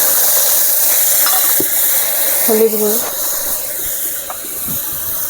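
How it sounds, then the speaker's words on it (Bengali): Mustard paste, black cumin, dried chillies and turmeric powder fry steadily in hot oil in a pan for shorshe ilish, hissing and sizzling with faint stirring scrapes under a voice talking throughout. "ভালো করে মশলাটা ভেজে নিতে হবে।"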